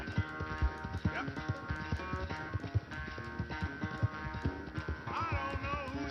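Horse hooves clip-clop steadily in the Red Dead Redemption 2 video game, a close, rhythmic trot running throughout over a layer of tonal game music.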